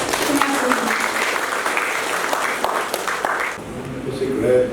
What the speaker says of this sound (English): please give a round of applause as we welcome our very versatile and hardworking